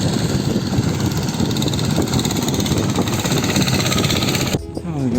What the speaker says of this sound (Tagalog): Motor Kuya, motor.